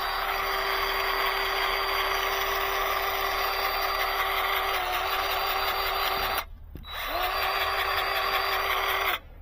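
A Bauer 20V cordless grease gun runs with a steady whirring motor drone, close and loud, stops briefly, then whirs again with the same even tone before halting.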